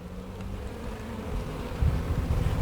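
Honey bees buzz around beehives in a low, continuous drone that swells slightly toward the end, heard close with some wind noise and no talking.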